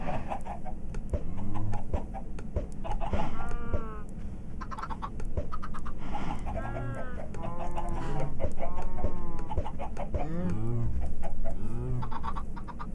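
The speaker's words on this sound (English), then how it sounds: "baby chicken, full-size chicken." Chickens in the Minecraft video game cluck and squawk in repeated bursts across the whole stretch, moderately loud and close, with some faint voice-like sounds underneath.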